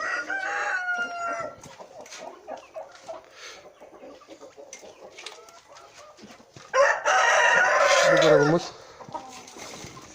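Roosters crow and hens cluck inside a coop; scattered clucking gives way to one loud, close crow near the end, with a voice heard briefly.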